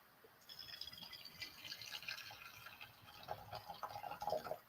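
Boiling water poured over ginger to make tea, a soft, steady splashing and trickling pour, faint and continuous for several seconds, no voices.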